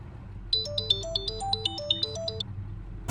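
A mobile phone rings indoors with a bright electronic melody of quick stepped notes, one short phrase playing at moderate volume over a low background hum, then stopping.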